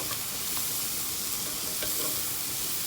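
Scallops sear in a very hot pan on high heat, producing a dense, even sizzle that stays loud and unbroken throughout, with no voices.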